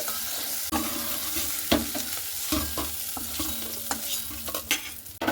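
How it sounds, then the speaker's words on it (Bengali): A fish head fries in hot oil in a wok with a close, continuous sizzle. Scrapes and clacks of stirring break in at irregular intervals. "মাছের মাথাটাকে এইভাবে একটু আমি ভালো মতো করে একটু ভেজে নিচ্ছি 2-3 মিনিট"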